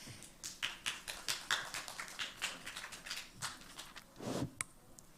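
A conference audience applauds a presenter, a faint, distant scatter of separate hand claps in an irregular rhythm, ending with a slightly louder flurry.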